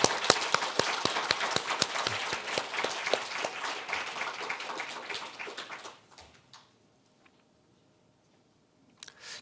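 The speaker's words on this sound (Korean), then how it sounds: "우리 박수 환영하겠습니다" A church congregation claps to welcome a new preschool ministry evangelist, dense brisk applause that runs for about six seconds and then stops abruptly, leaving near silence with one faint knock near the end.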